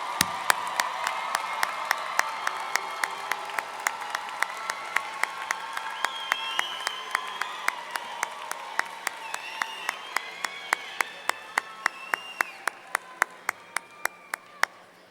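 Steady applause from a large audience at a graduation ceremony, a dense wash of clapping with sharp individual claps standing out, continuing for the whole stretch.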